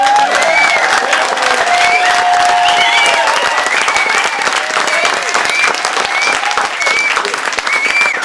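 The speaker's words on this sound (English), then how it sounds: "I want you whistling and howling and clapping as much as you can" An audience claps loudly and continuously, with whistles and cheers rising above the dense applause throughout.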